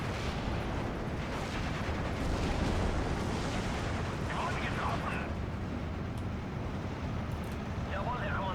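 In the WWII strategy game Steel Division 2, artillery fire rumbles continuously. Dense, low booms and blasts blend into a steady, distant-sounding wash of battle noise with no clear gaps.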